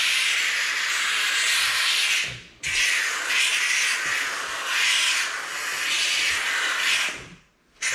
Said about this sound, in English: Take your time so that the steam has time to work away at the grease and oil that's in the mat